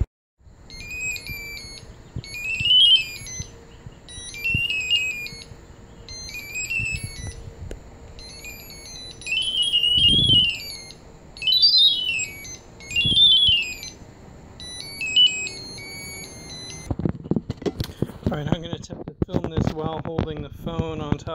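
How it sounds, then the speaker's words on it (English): An audio tone from a quadcopter's radar module warbles and shifts in pitch with relative speed, repeating in short rising and falling chirps over wind and handling noise, with a burst of clattering and rustle near the end. "here's the radar module, and you can hear that tone changing pitch with corresponding relative speed"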